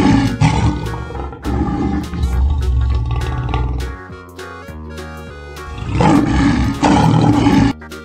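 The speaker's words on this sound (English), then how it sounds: "Lion. Lion." A lion gives a series of loud, deep roars in two long bursts separated by a short break, close and powerful, with a rough rumbling texture and no speech over it.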